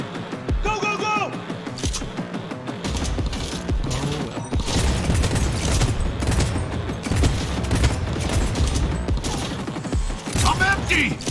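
Gunfire in the video game Cyberpunk: dense, sustained bursts of weapon fire with mechanical clicks and clatter, loud and continuous throughout, with game voices and chatter mixed underneath.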